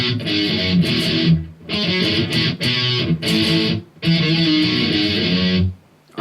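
Distorted electric guitar plays the verse riff of a song in loud, chunky power-chord bursts with short gaps between phrases, close and alone before it cuts off.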